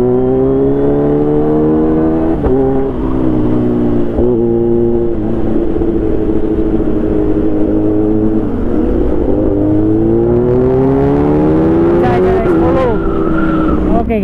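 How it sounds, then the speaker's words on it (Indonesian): A group of Kawasaki sport motorcycles, Z800, Z900 and ZX10, idling and revving together nearby, a loud sustained engine drone with rising and falling pitch as throttles blip. "7 moge sudah di sini guys. Ada Z800, Z900, ZX10."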